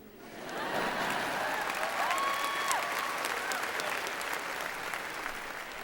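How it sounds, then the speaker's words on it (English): A high school graduation crowd claps and cheers for the football team, with sustained applause from a large audience, scattered whistles and shouts rising over the clapping, loud and continuous after a quick swell. "So feel free to cheer every time I say an organization's name."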